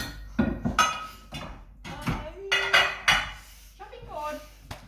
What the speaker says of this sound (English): can you put the chopping board away?